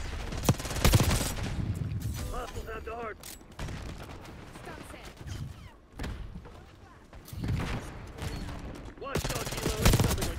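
Rapid gunfire from a Kompakt 92 SMG in Black Ops 6, with several loud bursts of shots and impacts spread across the stretch, mixed with game effects and a player talking over it.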